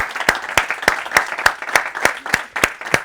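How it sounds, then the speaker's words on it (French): An audience claps for a man named Fred, with sharp, evenly spaced claps standing out clearly from softer background applause. "je pense qu'on peut l'applaudir"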